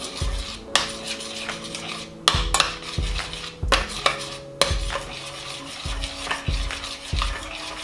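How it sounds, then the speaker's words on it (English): A spoon stirs oatmeal in a pot with milk as butter melts and the mix nears a boil, scraping and knocking against the metal in a steady, close rhythm with a low bubbling underneath. "I'm gonna stir a little bit more, let the butter melt."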